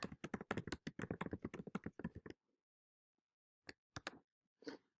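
Rapid keystrokes on a computer keyboard fill the first two seconds in a dense clatter, then stop, followed by a few isolated taps after a pause; close and fairly quiet.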